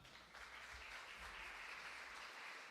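A church congregation applauds in a brief, even burst of clapping, heard from a distance and fairly faint.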